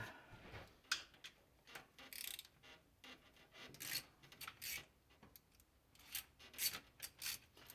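A hand ratchet clicking in short bursts while removing a car engine's timing chain cover, close raspy ticks and scrapes coming in irregular groups, with no talking.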